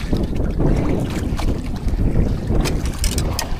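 Rough sea waves slap around a small fishing boat out on open water while strong wind buffets the microphone, a loud continuous rush with no talk.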